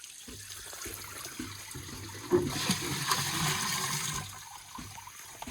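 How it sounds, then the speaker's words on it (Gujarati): Water gushes and splashes into a barrel for a few seconds, a steady pouring rush that then tapers off. "હવે આપણે થોડુંક બેરલ ભરવાનું બાકી છે"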